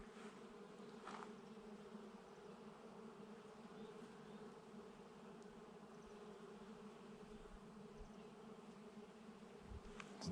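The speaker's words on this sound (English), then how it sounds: "Tons of bees." A dense, continuous drone of many buzzing bees from a large nest near a lake bank fills the air, steady and faint, with no voices.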